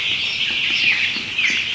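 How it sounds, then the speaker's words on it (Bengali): A dense chorus of high, continuous peeping from about 1,200 broiler chicks crowded inside a poultry farm house, loud and unbroken throughout. "এখানে আমার এই 1200 মুরগি আছে, 1200 এই ব্রয়লার বাচ্চা আছে"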